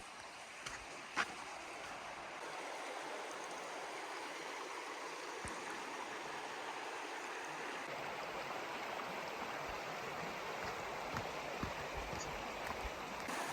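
A stream flows steadily where red salmon are running in Utah, a constant broadband rush of moving water that holds even across the whole stretch with no talk over it.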